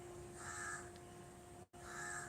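A black water bird, one of three perched in a mango tree, gives a harsh, cawing call, then calls again after a short pause, sounding fairly distant and soft.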